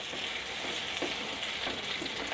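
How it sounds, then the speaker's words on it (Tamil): Small onions sauté in oil for a Tamil small onion chutney, giving a steady close sizzle with occasional crackles and stirring, continuous and alone. "நல்லா எண்ணெயிலே நல்லா வதக்கிக்கணும்"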